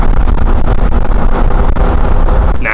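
Truck cruising on Cooper Discoverer STT Pro tires with the window open: loud tire roar mixed with gusting wind buffeting the microphone, fairly close and continuous, with a brief higher tone at the very end.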